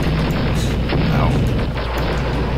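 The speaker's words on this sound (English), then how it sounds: "the missile almost got me" A missile explosion in Star Wars: Dark Forces comes as a dense, rumbling boom amid continuous game noise, with a voice talking under and over the blasts.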